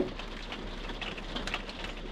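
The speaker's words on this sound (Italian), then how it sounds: "Senti come piove." Steady rain patters on a surface, a soft continuous hiss with scattered drops, no voices.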